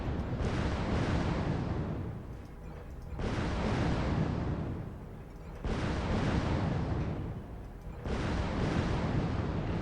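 Long-range missile volleys from a Hunchback 4J mech in MechWarrior Online fire in four heavy rumbling bursts, each swelling and fading over roughly two seconds in a regular repeating pattern.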